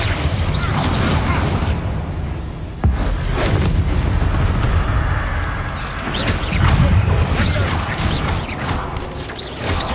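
A Confringo spell explosion in Hogwarts Legacy, heard as heavy booms and crashing impacts amid whooshing effects, with a sharp hit near the middle and another surge later, all at a steady loud level.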